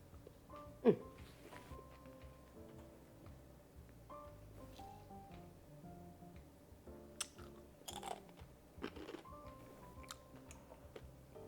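Someone chews a bite of sweet and spicy pickled egg up close, with soft, irregular chewing and crunching and a few sharper clicks, faint overall and with some speech in places.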